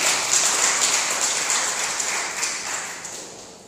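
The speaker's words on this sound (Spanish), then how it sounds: "Dame un aplauso al Espíritu de Dios" Church congregation at a Spanish-language service claps together, a soft, diffuse patter of many hands that gradually thins and fades.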